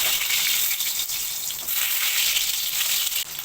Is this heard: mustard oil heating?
yes